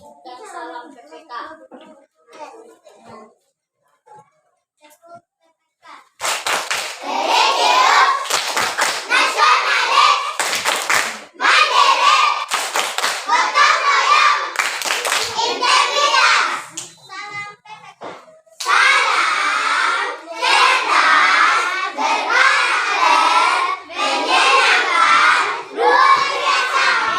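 A group of children clap hands and chant in unison in a rhythmic classroom clap-and-greeting routine, loud and close, in repeated bursts after a quieter spoken lead-in.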